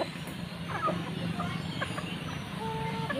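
Native chickens cluck and chatter during feeding, a busy mix of short calls over steady farmyard background noise, continuous and moderately close.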